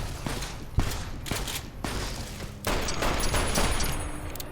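Sustained bursts of gunfire from a Russian-based scoped light machine gun in a video game, rapid and loud, with several short pauses before a denser, continuous stretch of automatic fire.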